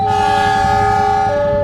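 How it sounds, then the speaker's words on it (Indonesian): Shunting locomotive moving onto track 3 to couple to a KRL electric train at Probolinggo station, sounding a loud sustained horn blast with steady tones over a low engine rumble. "lokomotif langsir masuk jalur 3 dan akan digandengkan ke KRL yang ada di jalur 4"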